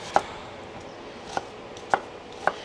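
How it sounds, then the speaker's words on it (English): Tomatoes and vegetables are cut into chunks with four separate knife chops on a board, sharp and close with uneven gaps between them, and no talking. "Cut them into some chunks and throw them in"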